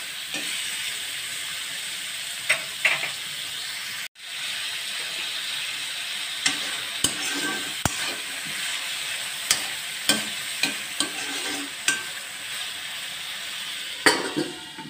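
Tomatoes are stirred into meat frying for a dhaba-style matar gosht curry, a steady soft sizzle running throughout with repeated scraping clicks of the spoon against the pot at close range.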